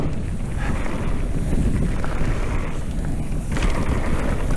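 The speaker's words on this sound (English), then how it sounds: "That was the same wind I had through there last time." Strong wind buffets the microphone in a loud, continuous roar, swelling briefly and dipping near the end, with no voices.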